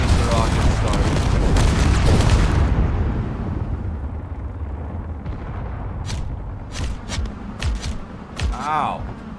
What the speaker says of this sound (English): Oh, here comes the rockets.